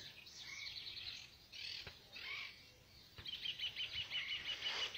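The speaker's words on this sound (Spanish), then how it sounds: "Ya se escuchan tus loros, me parece" Parrots just released in a group of more than thirty birds chirp and squawk at a distance. The calls are thin and repeated, with a steadier run of rapid chirps in the second half.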